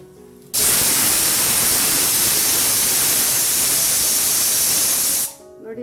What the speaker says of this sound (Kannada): ಮುದ್ದೆ ಆಗೋಷ್ಟರಲ್ಲಿ ಕುಕ್ಕರ್ ವಿಸಲು ಆಯಿತು ನೋಡಿ